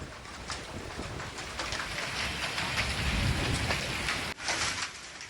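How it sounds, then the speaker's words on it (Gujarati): Unseasonal rain with hail falls in the Saputara hills of Dang, Gujarat: a steady, dense hiss of rain and pattering on surfaces runs throughout, swelling slightly midway, with no talk. "કરા સાથેનો વરસાદ પડ્યો છે."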